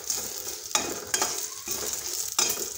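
Cumin and turmeric powder stirred into a mixture in a pan for a spiced yogurt-chilli dish: a spoon scrapes and clinks sharply a few times over a steady soft sizzle, with no voices.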